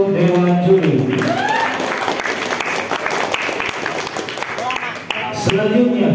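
Audience applause for the jury at an Islamic quiz competition, a broad patter of clapping filling the middle of the clip while voices speak at the start and end.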